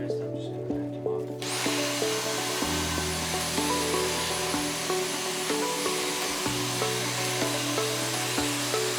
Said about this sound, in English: Whatever I missed, I'm just gonna vacuum off.